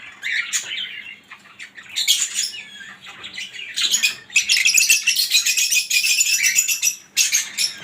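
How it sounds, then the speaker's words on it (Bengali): Lovebirds squawk and chirp in shrill, rapid bursts close by, sometimes overlapping in noisy chatter with short quiet gaps. "খুব সুন্দর লাভবাট খুবই চঞ্চল পাখি এবং আওয়াজ একটু বেশি করে"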